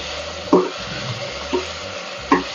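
Cooked spinach is stirred into rice and dal with a spoon, giving three soft scraping thuds at a slow, even pace over a low background hiss.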